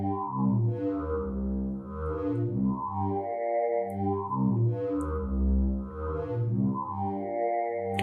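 Layered modular synthesizer oscillator tones pulse in a repeating pattern, bright harmonic notes washed in reverb, loud and continuous with a steady rhythmic cycle.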